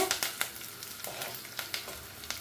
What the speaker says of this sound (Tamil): இப்போ பார்த்தீங்கன்னு சொன்னால் வெங்காயம் நல்லா வதங்கிட்டுது